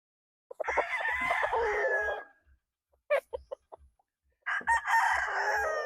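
Eight-month-old gamefowl rooster, a 5K Sweater by Dome over SBR Milson's Black cross, crowing loudly and close by in two full crows separated by a few short clucks.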